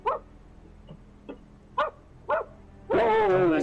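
A dog gives a series of short, quiet barks spaced about half a second apart, then a louder, longer whining yelp at the end, heard at a distance in a quiet outdoor setting.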